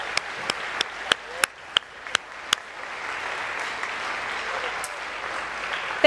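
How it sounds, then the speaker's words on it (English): Audience applause for first-year band students at a summer band concert opens with a few sharp, separate claps that merge into a sustained, fairly loud wash of clapping lasting several seconds. "give them a round of applause as well"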